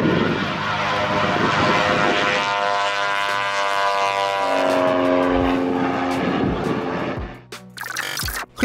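A light ski-equipped airplane is towed by a car on a trailer and takes off, its propeller engine droning loud and steady throughout, with the pitch shifting as it climbs, then cutting off abruptly near the end.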